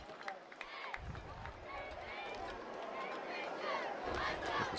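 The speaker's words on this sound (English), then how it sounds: "Some of the crowd here." Crowd at a high school football game as a victory is sealed, a broad wash of cheering and murmuring voices swelling near the end, heard from within the stands.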